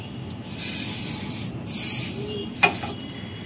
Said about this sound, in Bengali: এর সাইডে এভাবে করে অল্প করে স্প্রে করে দিব।